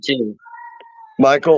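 A pet cat meows in a short rising-and-falling cry between bursts of nearby talk, the plaintive tone sitting alone in a brief gap in the conversation.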